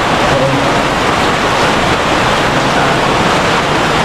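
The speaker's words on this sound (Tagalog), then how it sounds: "malakas ang ulan" A dense, loud, unbroken roar of heavy rain, like a wash of broadband noise with no gaps and no voices.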